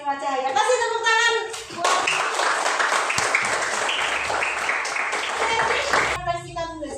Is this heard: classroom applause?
yes